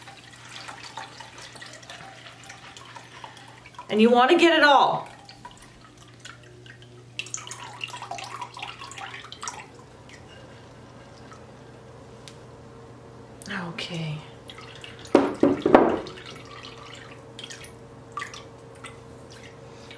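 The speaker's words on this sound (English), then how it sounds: "hold my strainer over, and just drain that water" Soaking water drains from wheat grains through a strainer held over a measuring cup, making bursts of splashing and trickling between quieter stretches, while a voice talks intermittently nearby.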